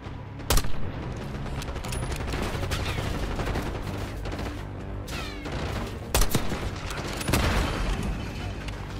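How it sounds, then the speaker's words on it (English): Dense gunfire fills a Call of Duty: Black Ops 6 battle, with steady loud combat noise punctuated by a few sharp, louder shot bursts, heavy and continuous throughout. "someone is shooting as well"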